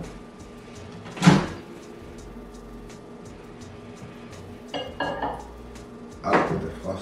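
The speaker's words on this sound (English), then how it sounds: "So we are going to put it in the microwave one at a time" Mugs of cake batter are set into a microwave in a kitchen: a sharp ceramic clunk, then a rattling of the microwave door and another clunk of a mug a few seconds later, with quiet background hum between.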